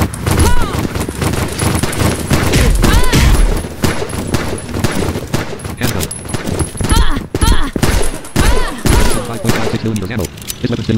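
Handgun fire in the side-scrolling shooter Battlefield 2D, rapid repeated shots rattling loudly through the whole stretch amid game effects, with a voice talking over much of it.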